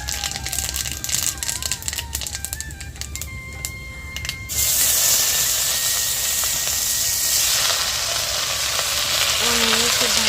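Mustard seeds frying in hot oil for a Bengali leafy-greens dish, a steady close hiss and crackle that grows louder and denser halfway through, with faint clatter early on and no talk.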